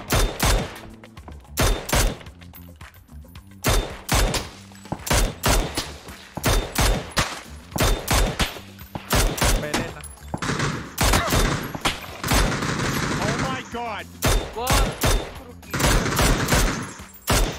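Dense gunfire in the battle royale game PUBG, rapid bursts of automatic fire and single shots repeating loudly throughout, with a player's voice heard briefly between volleys.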